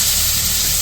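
Onions and green chillies hiss and sizzle steadily in hot oil in a wok, a dense, close frying sound throughout the brief moment.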